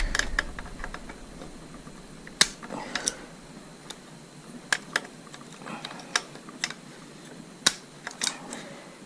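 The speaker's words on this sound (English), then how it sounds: "I've just found over the years easier just to crack them with some needle nose." Small metal clicks and ticks come from needle-nose pliers working on carburetor screws during a carb disassembly. The sharp, close taps are irregular and spaced apart over a quiet background, with no talk.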